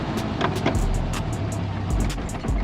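A manual-transmission car engine running as the driver shifts into second gear, a steady low engine drone with clicks and knocks of the gear changes, heard from inside the car.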